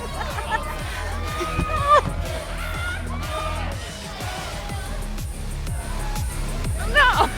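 A dense concert crowd in the video game Life is Strange Double Exposure, a steady roar of cheering, whoops and yells over thumping music, with scattered shouts rising near the end.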